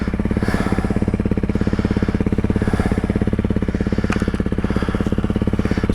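Honda CRF300L Rally motorcycle engine running nearby with a rapid, even, thumping pulse at a steady pace throughout.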